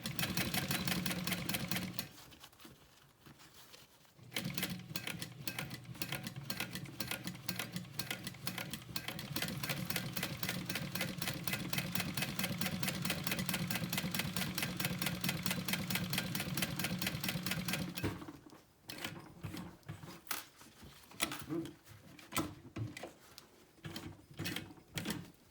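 Hand-cranked sewing machine stitching a backpack: rapid, even mechanical ticking in long steady runs, pausing briefly twice before resuming, faint and close-up.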